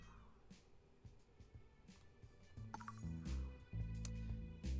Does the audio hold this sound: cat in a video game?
yes